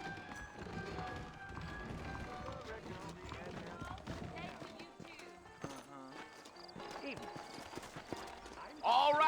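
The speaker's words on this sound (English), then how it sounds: "I got the horses saddled up and ready out front." Horse hooves clip-clop at a steady gait in the Western video game Red Dead Redemption, with a character speaking over the rhythmic, moderately close hoofbeats.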